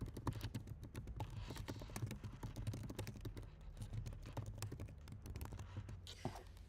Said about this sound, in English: let me type this up.